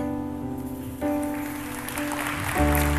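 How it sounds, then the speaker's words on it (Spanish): Applause from a church congregation at a Spanish-language worship service. A wash of clapping swells in after a second, over sustained keyboard tones, and grows fuller toward the end. "Este aplauso es para ustedes."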